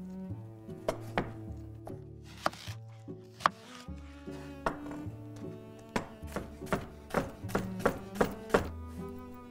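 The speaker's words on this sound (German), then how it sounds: "nehmen wir den Sellerie und die Karotte her und schneiden mit denen einfach kleine Brunoise" Steady knife chopping of celery and carrot into small dice on a cutting board, a quick run of crisp taps with short pauses, close up and alone.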